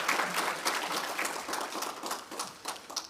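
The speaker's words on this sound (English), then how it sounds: "A round of applause for our speakers" A convention audience at the Actuarial Society of Zimbabwe 2023 event claps for the speakers, a brief burst of moderately loud, scattered applause from many hands.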